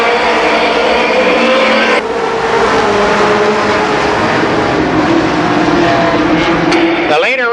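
Race cars roar past at Columbus Motor Speedway during the 1991 Race of Legends, a loud continuous engine drone that stays dense throughout, with one car's pitch sweeping up sharply near the end.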